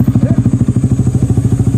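Motorcycle engine chugging on a rough road, a loud, close, rhythmic low thumping pulse with rattling clatter, steady over a short stretch.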